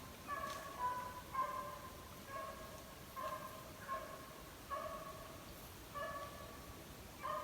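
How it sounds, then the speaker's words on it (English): A dog chasing deer barks in a steady series of short, tonal calls, faint and distant as if carried through open woods along a trail in northwest Florida. "Seems we got a dog running some deer out through there."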